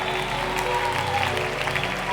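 Congregation at a prayer marathon clapping together in praise, a steady roar of many hands over held musical tones, with a voice faintly carrying above the applause.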